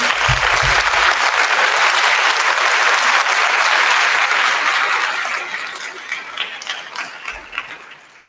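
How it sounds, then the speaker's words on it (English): A large school audience at a county band showcase breaks into loud, dense applause for the parents, sustained for several seconds before thinning into scattered claps and fading out. "give them a big round of applause"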